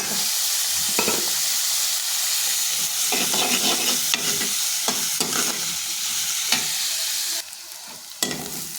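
Onions and chillies fry in a pan, a steady close hiss of sizzling with stirring scrapes and clinks breaking through now and then. It quietens briefly near the end.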